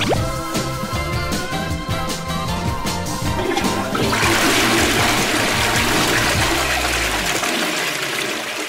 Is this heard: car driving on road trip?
no